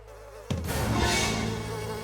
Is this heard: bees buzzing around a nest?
yes